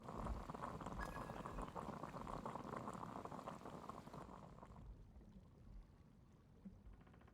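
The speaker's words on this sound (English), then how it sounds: "I'll boil some water." Water boils in the video game Genshin Impact, a steady, faint bubbling and hissing that continues throughout and softens slightly toward the end, with no voices.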